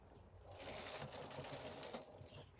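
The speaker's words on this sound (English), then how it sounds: "Then I'm going to release the hold on button and knit 1 row." A knitting machine carriage is pushed across for one row, making a quiet, brief mechanical clatter of needles and gears lasting about a second and a half before stopping.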